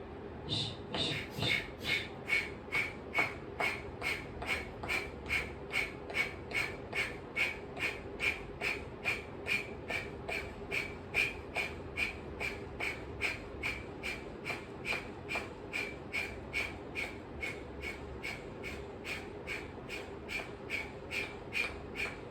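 Rapid forceful exhales repeat in a steady rhythmic series during a hot yoga breathing exercise, each sharp puff of air close and even, continuing for a long stretch.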